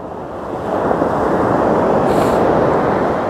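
Sea waves wash onto Happisburgh beach at sunrise, a steady, loud broadband roar of surf mixed with wind buffeting the microphone, continuous throughout with no voices.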